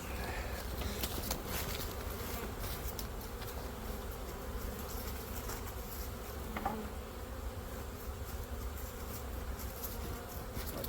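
Big wasps buzz around a beehive at an apiary, giving a steady insect drone that stays fairly quiet and even throughout, with no voices.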